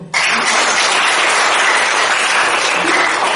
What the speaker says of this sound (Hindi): ताली बजा दीजिए इनके लिए